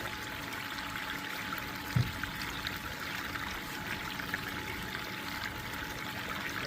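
A steady, soft pour of material streams into a container, with a single faint knock partway through and no talking.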